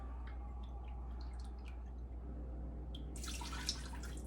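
Orange juice poured into an Instant Pot in a home kitchen, a faint trickle and light drips over a low steady hum, swelling into a brighter splashing stream near the end.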